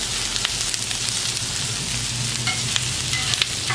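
Fajita vegetables sizzling over high heat on a 36 inch Blackstone griddle, a dense close crackling hiss running throughout with occasional scraping and tapping.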